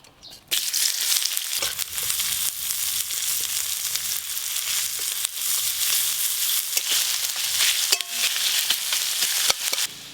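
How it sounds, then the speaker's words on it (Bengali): Chopped onions hit hot oil with a sudden loud sizzle that keeps crackling densely, marked by sharp stirring clacks now and then, for a fish curry made with river fish. "প্রথমে পেঁয়াজগুলো খুব ভালো করে ভাজবো"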